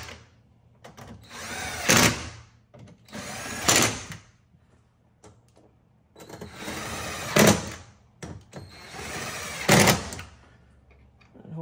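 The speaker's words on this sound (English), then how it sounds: "And then we'll go ahead and start screwing it down." Power driver screwing down a carbon fiber front grill on a C8 Corvette, four loud bursts of whirring about two seconds apart with quiet gaps and light handling noise between them, no talking.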